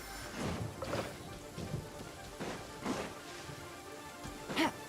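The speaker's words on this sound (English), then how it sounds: "It's raining again?" Rain with rumbling thunder in the game Genshin Impact, heard as a soft steady patter with several low swelling rolls and a louder crack near the end, with faint voices underneath.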